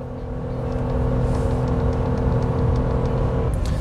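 A RAM 1500 pickup with the 3.6L Pentastar V6 revs up and holds near 5,000 RPM, a steady loud droning hum that climbs within the first second and then stays level, with no talking.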